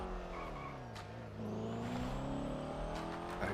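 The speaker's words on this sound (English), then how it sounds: "the engine for this car is very loud" A loud car engine in GTA 5 roleplay, the car with a flat rear tire, drones and revs steadily up close, its pitch shifting and rising midway with a brief skid-like squeal; no talking over it.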